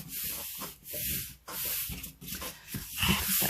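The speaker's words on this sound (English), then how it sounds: "I'm using my palm here to rub this in place." A palm rubs a stamped paper piece into place, giving a continuous dry brushing hiss with several short sweeping strokes, close and moderately loud, with no talk.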